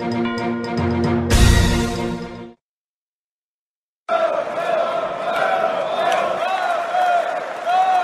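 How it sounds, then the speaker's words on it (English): A large crowd of demonstrators gathers in the streets of the capital in the strategy game Geo-Political Simulator 4, set in Russia. Music stops, a short silence follows, then a dense, steady murmur of many voices takes over. "a large crowd of demonstrators is currently gathering in the streets of the capital to voice their frustrations"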